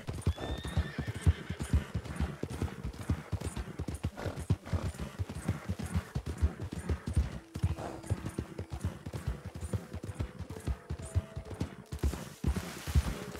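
In the Western game Red Dead Online, a horse's hooves clip-clop in a steady rhythmic trot, close and continuous, with a few brief snorts and faint background game sounds.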